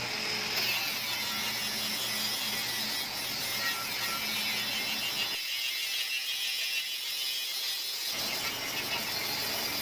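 Steady high-pitched whirring and grinding of a flap disc on a power tool removing paint from a Vespa, continuous and loud for the whole stretch, with a slight dip in the low rumble midway.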